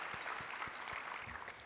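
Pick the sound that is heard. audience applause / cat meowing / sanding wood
audience applause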